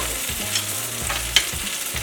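Eggplant sizzles in olive and sesame oil, a steady close hiss overlaid with short stirring scrapes and one sharp tap.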